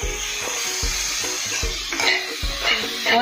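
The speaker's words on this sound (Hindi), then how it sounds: "और हम इसे मिक्स कर देंगे." Turmeric, coriander powder and other spices are stirred into soya bean pulao frying in a pan, with a steady sizzle under repeated scraping strokes of a spoon against the metal, close and loud, with no talking.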